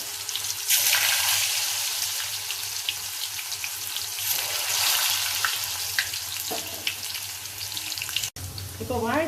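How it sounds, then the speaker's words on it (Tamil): Raw banana chips frying in hot oil, a steady broadband sizzle and bubbling that holds loud and close throughout, with a brief dip near the end; no one speaks. "எண்ணெயில் போடும்போது கொஞ்சம் தள்ளி நின்று போடுங்க,"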